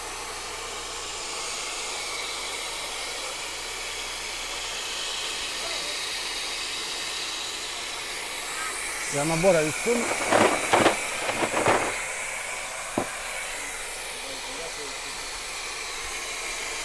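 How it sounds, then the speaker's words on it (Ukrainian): Refrigerant hisses steadily out of the air-conditioning system of a 2018 Dodge Journey SE 2.4L, a broad continuous rush with a cluster of louder spurts and clicks partway through. "І ми випускаємо фріон."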